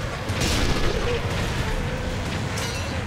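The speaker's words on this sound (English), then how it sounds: "There's a Nebelwerfer just up here, so it actually, when firing, produces enough sound to mask my shot" A Nebelwerfer rocket launcher firing in the World War II sniper game Sniper Elite 3, a sustained loud roaring whoosh with booming rumble that fills the whole moment without pause.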